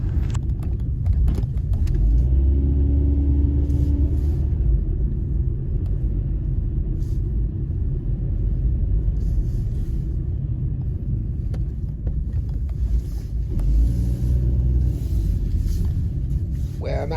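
A car rolling along a road at night in Southall, London, with a continuous low engine rumble and road noise close by, and a few faint clicks and rattles over it.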